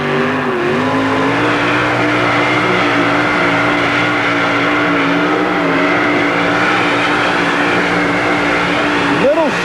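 A 4WD truck's engine roars at high, steady revs during a stadium truck pull, loud and continuous, with pitch rising and wavering across the run while a commentator talks over it.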